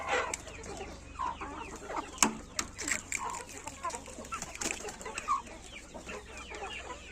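Several chickens, chicks and a rooster cluck and chatter close by, with sharp calls breaking out over a busy, continuous farmyard murmur.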